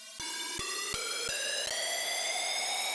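A riser sound effect sample in FL Studio: a bright, buzzy synthetic tone climbs in pitch and is punctuated by a few quick clicks early on, then keeps rising steadily and loud.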